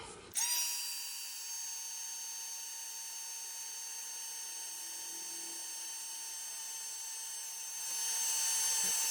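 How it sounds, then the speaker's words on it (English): Heat gun used to heat set black embossing powder on a card: a steady high-pitched electric whine with fan hiss that starts abruptly and holds evenly, growing slightly louder near the end. "And then I am going to heat set that"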